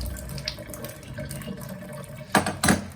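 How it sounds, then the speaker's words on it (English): Water drains out through a shower valve in a steady, moderate rush, with two louder splashing bursts near the end. "Just going to let the water out of the valve here, just to let the water pressure die out"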